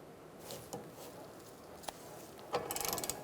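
A ratchet with a 22mm O2 sensor socket works on a downstream oxygen sensor of a 2004-2009 Mazda 3 2.3L, giving faint scattered clicks before a quick run of rapid ratcheting clicks near the end.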